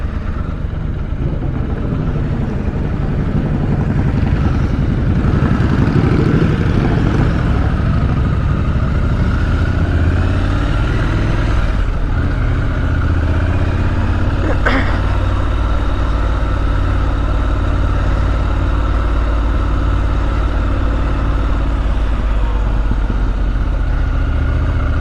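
Triumph Scrambler 1200 XC Gold Line Edition motorcycle being ridden in fine weather: a loud, steady engine drone that rises and falls with throttle and gear changes, heard close and continuous throughout.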